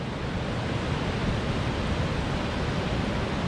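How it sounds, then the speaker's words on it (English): Cumberland Falls pours over its edge as a continuous broadband rush of falling water, steady and fairly loud, with no voices or other sounds standing out. "Right there, you can see the water going over the edge."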